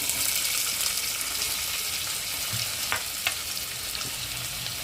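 Light frying in a pan for a tamarind leaf curry: an even, close sizzle that holds steady throughout, with a couple of faint stirring scrapes partway through and no voices.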